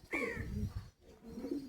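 A high-flyer pigeon coos twice close by, low throaty calls separated by a short pause, with no one talking over it.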